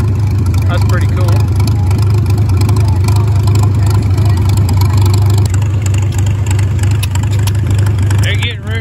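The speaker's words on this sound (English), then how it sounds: "That little itty bitty tricycle-y tractor." Small tricycle-style tractor engine idling at a steam and gas show, a steady low throbbing drone that runs throughout at close range while people talk nearby.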